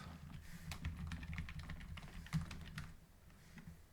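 Typing on a computer keyboard while working a crossword puzzle, a close run of quiet, irregular key clicks with short pauses, tapering off toward the end.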